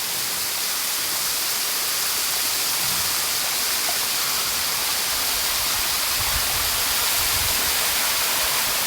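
A waterfall at a popular Kerala scenic spot roars as a constant broadband rush of falling water, loud and unbroken throughout with no voices.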